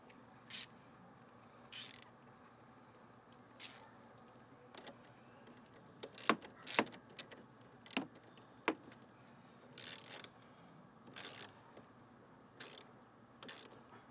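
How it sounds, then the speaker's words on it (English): Ratchet wrench tightening the battery terminal on a 2017 Ford Focus RS: faint, quick clicking bursts in irregular spurts with small metallic taps, in a quiet space. "we could go ahead and tighten the battery terminal down"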